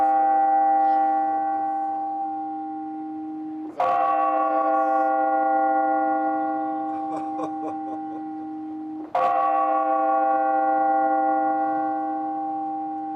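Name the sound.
clock tower bells striking the hour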